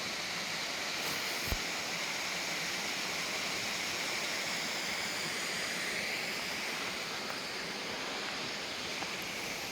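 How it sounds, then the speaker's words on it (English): Murhut Falls, a waterfall on a trail on the eastern Olympic Peninsula near Hoodsport, Washington, gives a steady, broad rushing roar from some distance, unbroken and without voices. "there's just a little lower waterfall. There's the upper part of the main one there."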